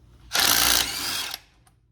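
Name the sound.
impact gun removing 15 millimeter bolts on Silverado axle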